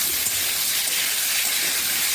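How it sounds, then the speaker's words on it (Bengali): Pointed gourd (potol) frying in hot oil, a loud, close, continuous sizzling hiss with no talking. "সেটাকে ভালো করে ভেজে নিই লাল লাল করে"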